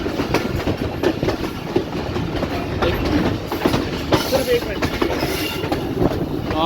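Rehman Baba Express rolling slowly through Golra railway station, a steady rumble of carriages with dense, continuous rattling and faint wheel clatter, loud and close throughout.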